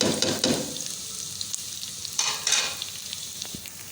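Onions frying in a pan with tomato and green chili added, a close, steady crackling sizzle with bursts of stirring and spattering, alone without any talking.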